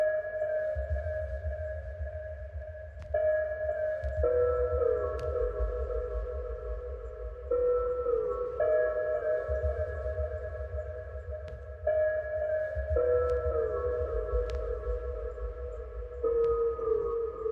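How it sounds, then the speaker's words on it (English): A detuned synth one-shot with pitch slides and portamento, widened by an imager and fed through delay, plays a slow eerie melodic phrase that glides between sustained tones over a deep low drone, with no voices. "I just put a decent amount of slides just to make it sound like detuned and all that"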